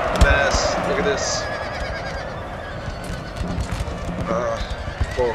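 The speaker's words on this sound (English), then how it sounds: "Four horses." Horses galloping in the video game Napoleon: Total War, a rapid clip-clop of hooves amid battle noise with a whinny, while someone talks over it.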